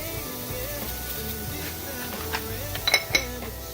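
A spoon stirs dirty rice in a pan, giving a few light scrapes and clinks of metal near the end over steady background music.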